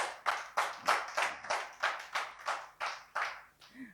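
A church congregation claps in acclaim of the Lord, about a dozen sharp rhythmic hand-claps in steady tempo filling the room, loud and close, ending with a brief faint vocal tone.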